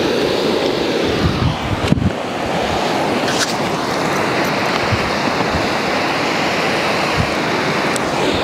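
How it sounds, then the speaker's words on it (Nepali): The monsoon-swollen Karnali river in flood, a loud, steady, broadband roar of rushing water with no break in its churning rush. "बर्सातको समयमा छ, कर्णाली उर्लिएर आएको छ"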